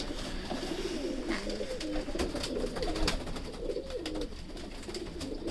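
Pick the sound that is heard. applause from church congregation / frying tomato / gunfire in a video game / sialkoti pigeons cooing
sialkoti pigeons cooing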